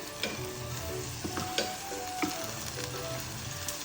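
String beans (sitaw) from Nueva Ecija hit a hot pan with shrimp, giving a continuous close sizzle broken by a few sharp clinks and stirring knocks, with no speech.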